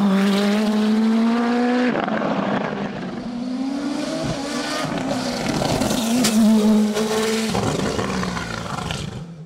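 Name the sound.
Nova Proto NP01 race car, 1.7 litre turbo, hill climb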